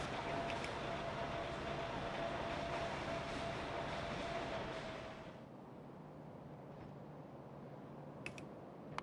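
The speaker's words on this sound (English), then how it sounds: "This is just a fuel train" A fuel train rolls along in the video game Factorio with the Pyanodon's mod, a steady, soft rumbling and clattering that fades somewhat partway through, with faint clicks on top.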